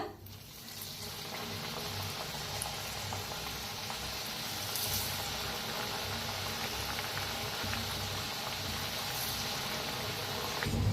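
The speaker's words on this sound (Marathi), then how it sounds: "आम्ही सगळ्या चकल्या तळून घेऊया अशाच." Chakli, a spiral snack, deep-fries in hot oil with a continuous close bubbling and sizzling roar, steady and even throughout.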